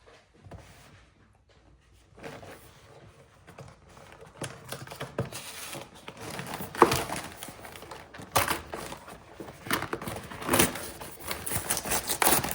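A plastic bag of spicy pork dim sims is handled and torn open, giving irregular crinkling and rustling crackles that build from quiet to louder bursts, close to the listener.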